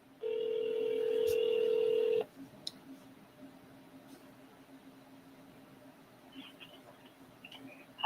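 Outgoing telephone call ringing back in the earpiece, a steady loud tone lasting about two seconds, then quiet line hiss with faint clicks.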